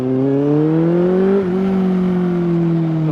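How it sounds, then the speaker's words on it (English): The inline-four engine of a Kawasaki Z750S motorcycle drones steadily while being ridden, its exhaust note climbing in pitch and then holding at a smooth, loud, even tone, with wind noise underneath. "with the exhaust, it's a Kawasaki inline 4. It makes a great sound"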